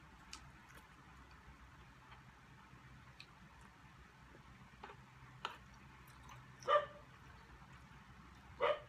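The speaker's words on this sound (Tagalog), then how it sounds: "Narinig tayo ng aso." A dog barks far off in a quiet room, two short muffled bursts near the end, faint against low background hiss and a few soft clicks.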